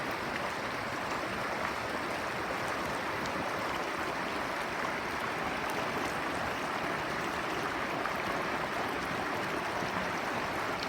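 The clear Conejos River beside a campground in Antonito, Colorado, flows with a steady, full rush of water, close and constant, with no voices heard over it for the whole eleven seconds.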